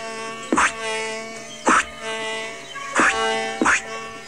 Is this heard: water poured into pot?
no